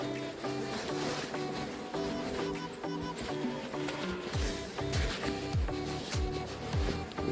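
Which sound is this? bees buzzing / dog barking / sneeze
bees buzzing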